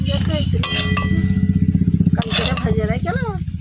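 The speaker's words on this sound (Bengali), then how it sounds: "কালকে ভেজে রেখেলাম, আজকে আবার একটু ভেজে নিলাম।" Prawns fried the day before are being fried again in a kadai-style wok, giving close sizzling with scraping stirs over a steady low mechanical hum while someone talks.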